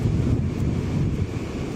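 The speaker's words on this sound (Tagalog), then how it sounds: "Eh, mahangin daw." Strong wind buffeting the microphone by the sea, a steady roaring rush with low rumble throughout, no voices.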